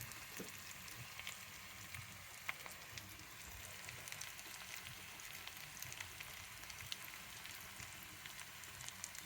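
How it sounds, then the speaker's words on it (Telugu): Tempering spices crackle and fry in hot oil with a pinch of asafoetida for ivy gourd chutney, a steady, quiet sizzle with fine pops that runs evenly throughout. "పోపు కొంచెం ఎర్రగా వేగాలి"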